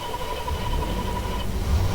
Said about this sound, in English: That startup noise, oh my god, I like that.